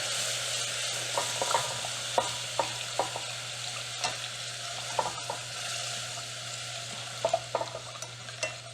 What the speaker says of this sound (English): I'm going to add a couple tablespoons of all-purpose flour. And I'm going to whisk.